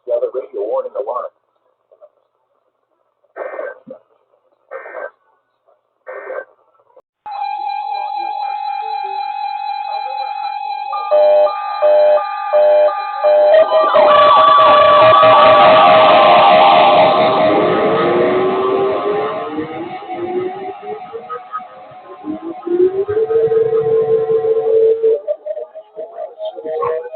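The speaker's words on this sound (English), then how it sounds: "This ends the test of the National Weather Service weather radio warning alarm." Steady electronic alarm tone of a National Weather Service weather radio warning test, on an Ohio weather radio station, sounding loud and continuous for about twenty seconds after a few brief spoken words, with an announcer talking over it near the end.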